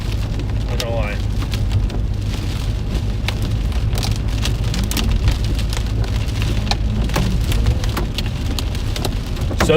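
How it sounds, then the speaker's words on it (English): Hail falling on the backside of a thunderstorm during a tornado-threat storm chase in North Dakota and Minnesota, a loud constant clatter of ice pellets striking surfaces, close and unbroken throughout. "hailing on the backside of the storm"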